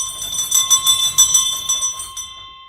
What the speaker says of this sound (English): I want to ring the bell because